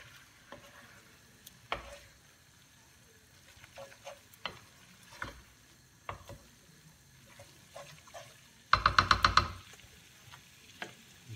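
Pasta with ground mushrooms stirred in a pan, quiet scattered scraping and clacking strokes with a soft sizzle beneath and a short loud rapid burst of clatter near the end.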